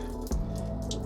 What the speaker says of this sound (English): I'm going to soak it a few more times, just make sure all this soil has some water